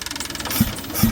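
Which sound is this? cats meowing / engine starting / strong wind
engine starting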